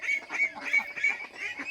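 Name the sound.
ducks on a farm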